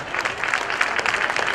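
Dense crowd applause at a Jain religious festival held in an agricultural market yard in Banda, Madhya Pradesh, loud and close, a continuous brief burst of many hands clapping.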